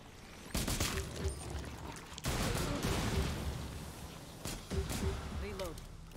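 Video game gunfire cracks out in a few loud, separate bursts over an ongoing game soundscape, with people talking throughout.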